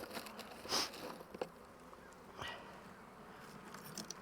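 Honeybees buzz softly around an open hive during colony equalizing work, a faint, steady drone with a few brief louder passes and light clicks of equipment.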